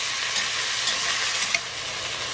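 Lean emu meat browning in oil in a pan, a steady bright sizzle with small pops and stirring scrapes, close and continuous, no talk.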